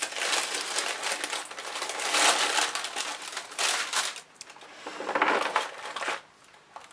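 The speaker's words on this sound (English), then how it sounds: "I'm sorry for the paper noise." Paper crinkles and crumples nearby in several loud rustling bursts, with short quieter gaps between them.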